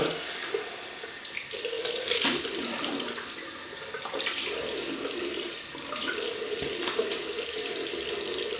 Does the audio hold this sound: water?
yes